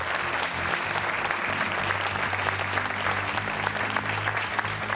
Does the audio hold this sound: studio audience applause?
yes